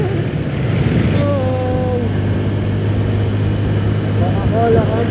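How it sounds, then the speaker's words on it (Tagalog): Many motorcycles pass in busy street traffic as a steady, loud engine drone and rumble, heard up close from the road, with a brief voice speaking over it. "Daming motor."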